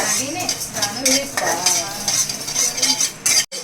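Cumin and fenugreek seeds dry roasting in a pan alongside coriander seeds, with a spoon scraping and stirring them in repeated metallic strokes and a soft rattle of seeds, close up with a faint sizzle beneath.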